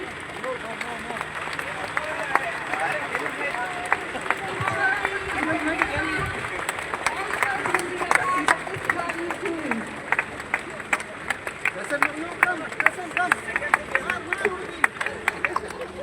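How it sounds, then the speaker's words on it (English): Students clap together outdoors in Bhaangarbhuin, Goa, cheering a new school bus as it sets off on its first journey; steady, continuous clapping carries on for the whole stretch, with voices and a busy crowd mixed in. "Students, keep clapping."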